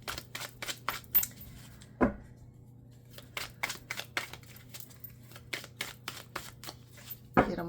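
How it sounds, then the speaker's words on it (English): Tarot cards being shuffled by hand, a series of close, crisp riffling and flicking bursts with short pauses and a couple of louder snaps. "Get them all good and shuffled."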